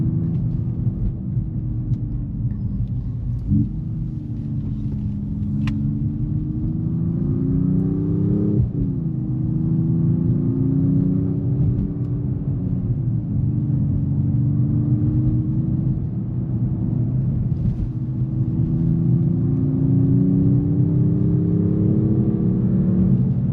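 A 577-horsepower 2025 Mercedes-AMG E 53 Hybrid 4MATIC+ sedan revs and accelerates hard, its low roar rising and shifting through gears for over twenty seconds, heard from inside the cabin.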